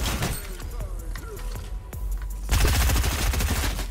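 SMG submachine gun fire in a video game, rapid bursts crackling through a gameplay mix, heavier and denser in the final second and a half, with someone talking over it.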